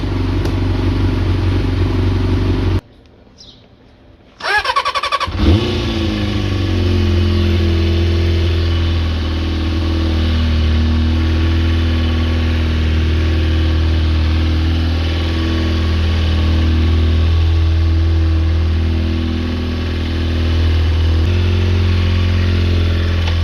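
A scrap Kawasaki ZX4 motorcycle engine runs loudly and steadily close by, briefly cutting out near the start before it settles back into a continuous idle.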